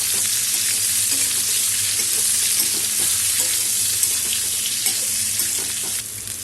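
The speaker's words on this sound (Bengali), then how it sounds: "এখন আমি তেলের মধ্যে আমগুলোকে ভেজে নিয়েছি।" Mango pieces, rubbed with turmeric and salt and sun-dried, fry in oil for a sweet-spicy pickle, giving a loud, dense sizzle that runs steadily throughout with faint stirring clicks, close by and alone.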